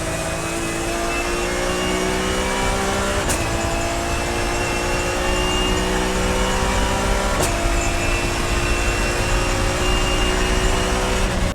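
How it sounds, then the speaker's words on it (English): A BMW E46 M3 with the S54 straight-six and straight-cut gears, holding a loud, steady engine drone with a whining gear tone, broken by two brief shift blips. "It works just fine in the E46 M3 with the S54, and it makes the good, you know, straight cut gear sound."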